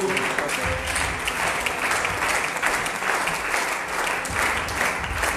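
A church congregation claps steadily and loudly throughout, a dense continuous round of applause filling the room at a seminar service.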